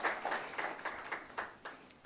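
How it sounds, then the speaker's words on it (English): Faint scattered applause from a conference audience for a government minister, a brief thin patter of claps in uneven bursts at a distance. "can we have a round of applause for the Honorable Minister of State for Budget and Planning?"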